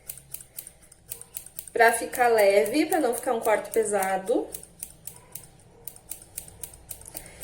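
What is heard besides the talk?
scissors cutting hair, layered haircut at home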